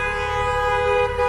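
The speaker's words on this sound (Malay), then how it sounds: "Diorang horn sepanjang jalan ni." Taxi horns blare in a sustained, loud, overlapping chorus during a taxi drivers' street protest in Besançon, a continuous honking wall without speech.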